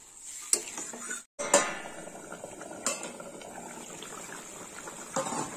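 Water poured into a pan of simmering Bengali rui fish kalia, with metal clanks and scrapes of a utensil against the pan, a short silent gap, then softer bubbling and occasional clinks.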